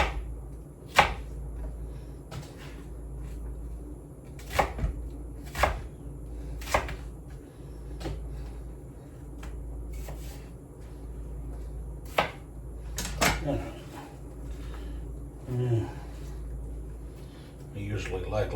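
A knife chops vegetables for fajitas on a cutting board, giving irregular, distinct taps and thuds spaced a few seconds apart. The chopping is close and sits under a person talking.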